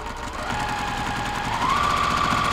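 A sewing machine runs steadily as it stitches a quarter-inch seam on a T-shirt quilt, giving a fast, even mechanical rattle at close range that rises slightly in pitch partway through, with no talking.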